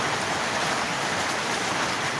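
Heavy rain falls in a loud, even wash of noise, steady and close with no pauses and no voices.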